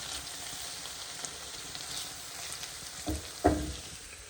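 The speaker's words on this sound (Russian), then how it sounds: "Так, лучок у нас жарится." Chopped onion fries in a pan as part of cooking Chechen galushki, giving a soft, even sizzle throughout, with a few brief clicks from stirring near the end.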